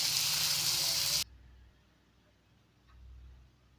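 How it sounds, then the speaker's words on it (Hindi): Beef pasanda frying in hot oil, a bright, loud sizzle that cuts off abruptly partway through, leaving faint low rumbling and quiet background noise. "ये देखिए कितने अच्छे से फ्राई हो रहा है ये"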